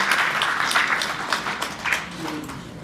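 Audience applause breaks out to welcome a guest onto the stage at a book launch event, a steady wash of clapping lasting about three seconds and slowly fading.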